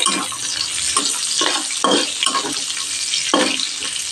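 Cashews, almonds and raisins frying in oil in a pan on low heat, a steady sizzle broken by several scraping stirs of a spoon against the pan, close and distinct with no voices.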